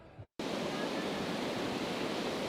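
Ocean surf at a Jersey Shore beach in Wildwood, a loud, steady wash of breaking waves that starts abruptly after a brief cut and is mixed with wind rush.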